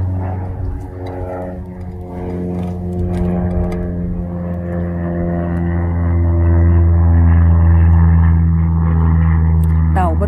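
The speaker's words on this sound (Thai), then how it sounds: "เพื่อนๆได้ยินเสียงเครื่องบินทีเขาก็ชะงักที" Propeller airplane flying overhead near a turtle pen, a steady low engine drone that swells louder toward the end, with a voice talking over it.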